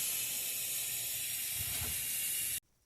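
A pressure cooker on a home kitchen stove hisses steam in a loud, steady, broadband rush that continues for about two and a half seconds, then cuts off abruptly to near silence.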